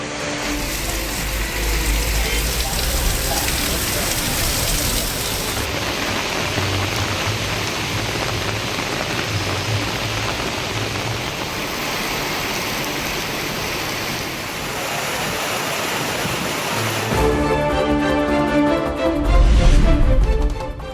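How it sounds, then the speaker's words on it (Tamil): Heavy rain pours down in Omalur, Salem district, a dense, loud, continuous hiss of downpour on surfaces lasting about twenty seconds, with a brief change in texture near the end. "சேலம் மாவட்டம் ஓமலூரில் கனமழை."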